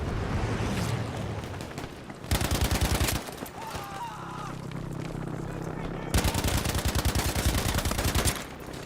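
STG assault rifle firing in Battlefield 5 multiplayer, two rapid full-auto bursts of crackling gunfire between other battle noise and explosions, fairly loud and sustained.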